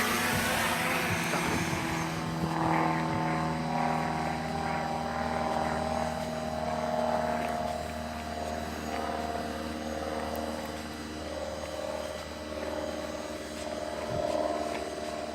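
A DJI Mavic Pro drone flying and climbing, its steady high-pitched propeller whine droning continuously close by, with slight shifts in pitch as it moves.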